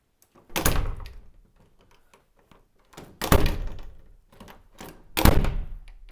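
A door swings shut three times, each ending in a dull, heavy thud against a bumper, with quiet pauses between closings.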